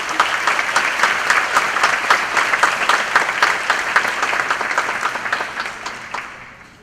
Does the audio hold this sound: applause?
yes